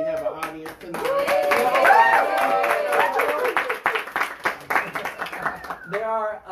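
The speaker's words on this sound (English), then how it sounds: "I want everybody to give a round of applause so they know we do actually have an audience tonight." A live podcast audience packed into a room claps and cheers in a sustained burst of applause, with excited voices and shouts mixed over the dense clapping before it tapers off.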